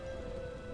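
Steady soft rain patter from a weather effect in World of Warcraft Dragonflight, a brief quiet wash of falling drops with no thunder clap.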